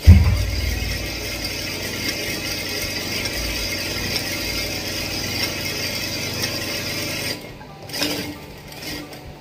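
Sewing machine locking a stitch while sewing a blouse, a rapid mechanical rattling whir running steadily, then stopping with a few short bursts and clicks near the end.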